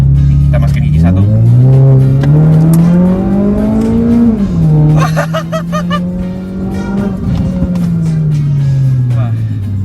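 Close, loud engine of a remapped 1500cc Mazda 2 Skyactiv accelerating hard to 7,000 RPM, pitch climbing then dropping at Tiptronic upshifts, with people talking over it.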